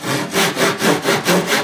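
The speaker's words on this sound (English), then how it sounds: "now I'll take the draw saw" A Japanese-style draw saw cuts kerfs into a wooden block with quick, even back-and-forth strokes, about six rasping passes close up and loud, with no voices.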